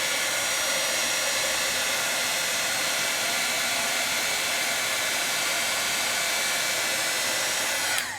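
A heat gun blows hot air over fresh gilding flakes, giving a loud, steady, hissing whoosh that runs unbroken until it cuts off at the very end.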